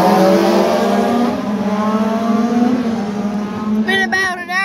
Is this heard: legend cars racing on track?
yes